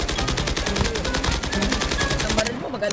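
Rapid automatic gunfire in the mobile shooter Call of Duty Mobile, a steady, evenly spaced stream of loud, close shots that stops abruptly near the end.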